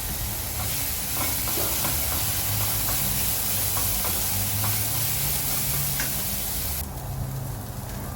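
Vegetable pulao rice sautéing in a pan with salt, turmeric and spices, giving a steady close hiss and sizzle with faint scraping stirs throughout, no voices.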